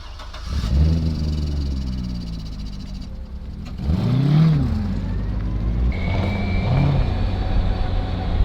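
An old forklift engine chugs and revs unevenly while driving, with rising and falling mechanical groans and rattles close by.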